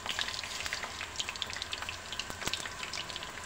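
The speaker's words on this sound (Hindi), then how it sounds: "ऐसे ही ये जो सारा बेसन है आपने इसको फ्राई कर लेना है।" Besan (gram flour) batter sizzles steadily in hot oil while frying for motichoor laddu, a soft, dense crackle with scattered pops and occasional louder spits, close and fairly quiet with no voices.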